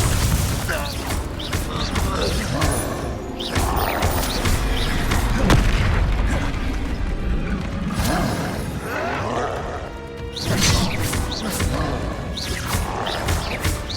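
Blasts from the Confringo fire spell in Hogwarts Legacy burst out as several heavy booms and crashing impacts at irregular intervals, layered over a constant roar of battle effects and shouted spell-casting voices.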